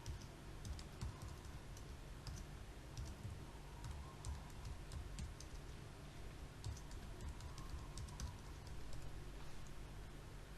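Someone enters a username and password on a computer keyboard: soft, irregular key clicks come in quick bursts over a faint steady hum, quiet and close, with no voices.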